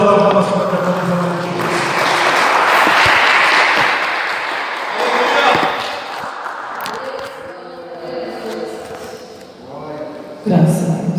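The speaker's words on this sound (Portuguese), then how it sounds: "Jesus Cristo, e as palmas são para Jesus" A church congregation applauds loudly for several seconds, then the clapping fades as a voice begins speaking over it.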